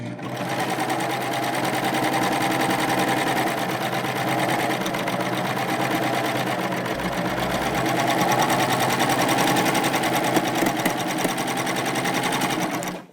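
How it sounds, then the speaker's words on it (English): A Baby Lock Euphoria sewing machine with a cover and chain stitch foot stitches ruffles, running as a fast, steady mechanical whir with rapid needle clatter. It runs continuously for several seconds, then slows briefly before stopping. "this time, I'm using my cover and chain stitch foot"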